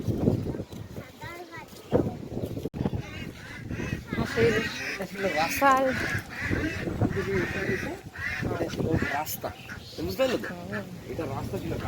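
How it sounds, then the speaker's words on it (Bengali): Ducks by a riverbank honk and quack repeatedly in a cluster, fairly close and loud, while a person talks over them throughout. "হাঁসগুলো দেখুন একসঙ্গে ঘুরে বেড়াচ্ছে"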